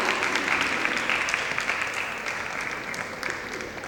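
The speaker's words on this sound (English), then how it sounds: "With a huge round of applause, please welcome Dr. Rajiv Agarwal" Indoor expo audience giving a round of applause to welcome a doctor onto the stage, steady dense clapping that is strongest at the start and eases slightly toward the end.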